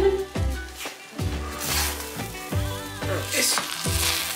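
Beef pilau rice for a Kenyan Swahili recipe cooking in a pot, giving a steady close sizzle and crackle with soft clatters of stirring, with no talk.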